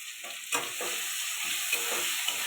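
Spices and chili powder being sautéed in a pan for a Bengali fish curry with potatoes and beans, giving a steady close sizzle and frying hiss broken by repeated scraping stir strokes.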